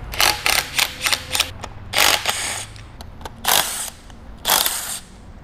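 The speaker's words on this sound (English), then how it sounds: "Next, we're gonna remove your main end plate bolts." Ratchet turning a 15mm socket on the end plate bolts of a Battioni rotary vane pump, a series of close, crisp clicking bursts in quick strokes with brief pauses between them.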